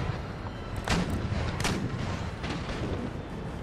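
Gunfire in a strategy video game while firing on the enemy, a few sharp distant booming shots spaced over a steady rumbling background, no talking.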